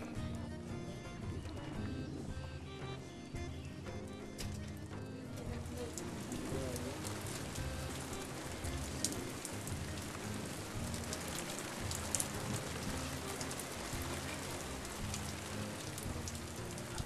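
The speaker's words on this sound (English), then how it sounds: "Under the rain, in the Black Lake, together with the rain" Rain falls steadily on Black Lake in a forest, a dense, even hiss of drops hitting water that stays constant throughout at moderate level with no voices.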